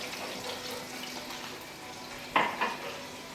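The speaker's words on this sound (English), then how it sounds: "We also saute the spinach in olive oil." Spinach sautés in olive oil in a pan with a soft, steady sizzle, broken by a pair of brief clinks or stirring knocks near the end.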